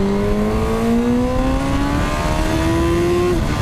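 A motorcycle engine pulls hard while riding on the road, its pitch climbing smoothly and steadily over a few seconds, loud and close, then easing off abruptly near the end.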